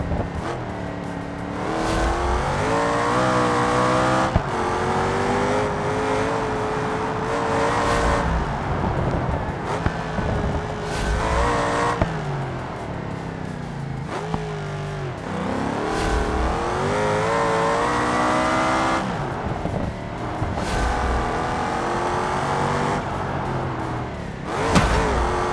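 A rear-wheel-drive car without traction control races through a BeamNG time trial, its engine revving hard and repeatedly climbing through gears, dropping on shifts and braking, loud and close for the whole run.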